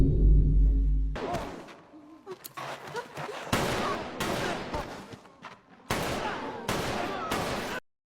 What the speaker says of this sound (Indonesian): Suara tembakan yang terdengar mengintimidasi pikiran mereka.